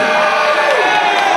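A crowd of boxing fans cheers and whoops at a press conference, a steady roar of many voices holding at a constant level throughout, with a few rising shouts near the end.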